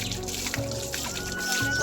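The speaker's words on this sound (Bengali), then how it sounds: "3টে আম আগে ধুয়ে নেবো" Water trickles and splashes steadily as three mangoes, not very sour, are rinsed under running water, a brief close wet patter with no voices.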